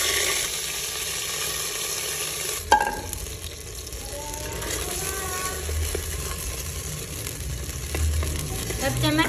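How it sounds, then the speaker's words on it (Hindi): Soaked semolina stirred into hot sugar syrup with a spoon for mokhandi halwa, a steady bubbling sizzle with a sudden splash as it goes in, followed by soft scraping and stirring close by. "इसमें हम भीगी हुई सूजी शामिल कर देंगे"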